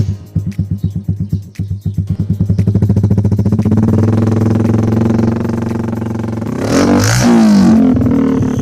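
A Raider J 115 Fi motorcycle fitted with an open pipe exhaust starts with a few rapid, loud popping pulses, then settles into a steady, raspy close-up idle before a sharp rev near the end.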